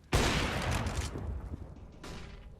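Tec-9 pistol gunfire in Counter-Strike on Dust 2, a sharp burst of shots at the start followed by a fainter second report, heard alone without talk.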